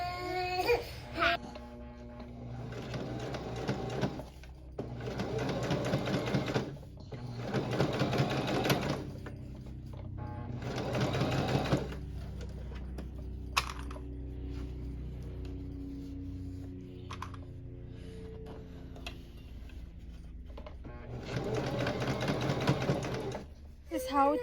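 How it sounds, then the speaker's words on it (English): Sewing machine stitching a zipper onto a nursing pillow cover, running in several loud bursts of rapid whirring separated by short pauses, with a voice talking quietly in the gaps. "So here I'm about to sew on the zipper."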